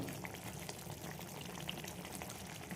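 Tengra fish curry boiling in a pan, a quiet continuous bubbling and popping simmer with no talk over it.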